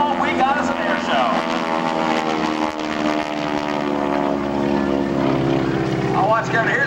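SNJ propeller warbird flying with its smoke system on at the 2008 Wheels & Warbirds airshow, a loud, steady engine and propeller drone that swells and shifts in pitch as it passes, with someone talking over it.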